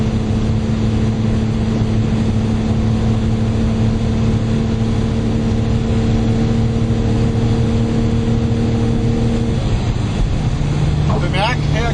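A Lotus Omega engine running at high speed in sixth gear at low boost with its oil warning light on: a loud, steady droning engine hum with heavy road and wind noise, shifting slightly near the end.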